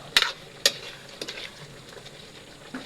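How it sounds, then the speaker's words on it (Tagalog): A spoon stirs vegetables simmering in coconut milk for ginataang gulay, with sharp clinks of metal against the pot over a soft bubbling hiss, close by and intermittent. "Haluin lang natin guys."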